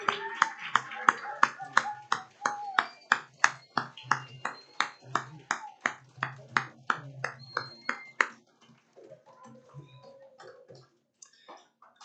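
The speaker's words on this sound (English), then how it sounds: "Can we give them a huge round of applause" An audience at a 5th grade promotion ceremony claps in a round of applause: sharp, rhythmic, fairly distinct claps for about eight seconds, then tapering to scattered faint claps and quiet room noise.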